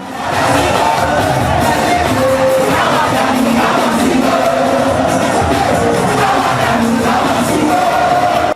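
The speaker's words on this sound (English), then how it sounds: "The governor danced into the large crowd to show his appreciation for their support" A large crowd cheers and shouts continuously and loudly as a state governor dances among supporters, a dense roar of many voices that holds for the whole stretch.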